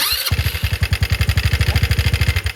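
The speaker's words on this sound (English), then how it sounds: "I'll pull my brake, and let's hit the start button." A Venom X18R 200cc automatic motorcycle fires up on the electric starter, cranking briefly before settling into a fast, rhythmic single-cylinder putter close by.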